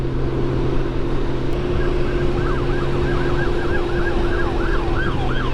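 A wailing siren rises and falls in quick repeated sweeps, growing clearer over a steady engine drone and road hum.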